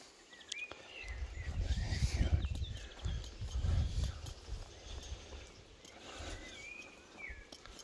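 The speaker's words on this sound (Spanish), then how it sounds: "Si se va el caballo." Horse moving about outdoors on a farm with livestock, its hooves giving an uneven run of dull, fairly close thuds amid rustling and background noise, with no talk.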